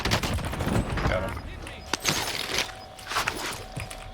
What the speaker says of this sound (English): somebody's starting to pop shots at us from up top